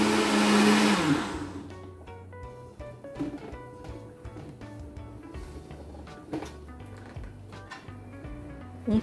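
An electric mixer beats vanilla cake batter with added milk, a loud whirring burst for about a second and a half that then cuts off, followed by quieter knocks and clinks nearby.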